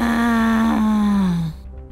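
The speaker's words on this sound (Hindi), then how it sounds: "एक अजीब सी दिल दहला देने वाली सांसों की आवाजें आ रही थी" A long, drawn-out heavy groaning breath in a cave, low and strongly voiced, loud and close, sliding slightly downward in pitch before fading out after about a second and a half.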